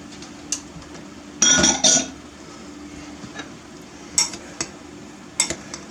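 Sugar and cocoa being mixed together: a short burst of scraping and stirring, then scattered light clinks of a utensil against the bowl, close and moderately quiet, with no voices.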